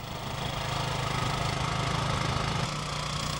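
Steady, loud engine drone from the Mark III Dervish, a mine-clearing vehicle that spins in circles on new soft-ground wheels, holding an even idling rumble with slight knocking throughout and no voices.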